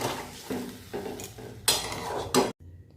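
A spoon scrapes and clatters around a metal pot as sugar is stirred into jujube chutney, in several uneven strokes with a couple of louder knocks before a short pause.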